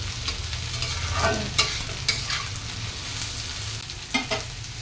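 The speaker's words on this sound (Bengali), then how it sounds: "এটা ভেজে নাড়াচাড়া করে ভালো করে ভেজে নিই" Frying and stirring in a pan: a constant close sizzle broken by several sharp scrapes and taps of a spoon against the pan, irregularly spaced, with no voices.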